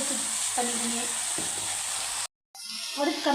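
Onions and drumstick pulp sizzle and crackle steadily in a hot pan, with a brief stirring scrape and a short dropout before the frying resumes louder.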